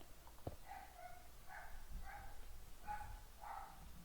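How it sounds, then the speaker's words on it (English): A dog barks repeatedly somewhere in the house, faint and distant, several muffled woofs spaced out over a few seconds against a quiet background. "my dog is barking"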